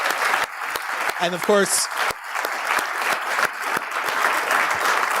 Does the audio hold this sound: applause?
yes